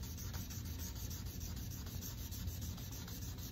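Hand sanding a Les Paul kit guitar's finish with 2000 grit sandpaper: a soft, steady rubbing hiss in quick back-and-forth strokes, close and quiet, continuing throughout with no voices.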